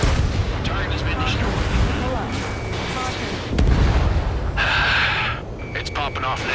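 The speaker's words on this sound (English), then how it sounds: "Intercept! Fire the AA!" Anti-aircraft fire and explosions in the jet combat game Ace Combat 7: a dense, loud barrage of bursts and booms, with a heavier blast partway through, under game radio voices.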